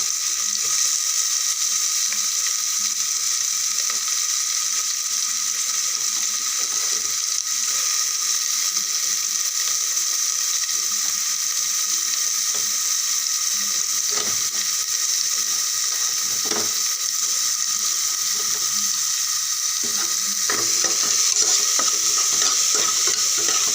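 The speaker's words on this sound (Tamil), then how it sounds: "பச்சை மிளகா, கருவேப்பிலை, பூண்டெல்லாம் நல்லா வறுந்ததுக்கப்புறமேட்டு வெங்காயம் பொடி பொடியாக வெட்டிட்டு வெங்காயத்தை ஆட் பண்ணிக்கலாம்" Chopped onions sautéing with green chilli, curry leaves and garlic for a South Indian crab gravy, a steady bright sizzle and frying hiss throughout with occasional stirring scrapes and clicks.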